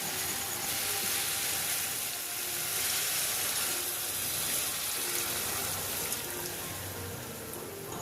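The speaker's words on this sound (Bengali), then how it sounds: "এবার আমি এর মধ্যে দিয়ে দিচ্ছি পরিমাণ মতন জল।" Water poured into sautéed spice paste in a pan while cooking a vegetarian ridge gourd, potato and poppy seed dish: a steady hissing, sizzling wash that runs the whole time at an even level with no talk.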